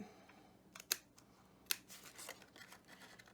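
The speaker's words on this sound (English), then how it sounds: "Outside, cut all the way up," Scissors cut through paper for a rectangular piece of a shaker box folio craft, with a few sharp close snips and soft rustling strokes in quiet surroundings.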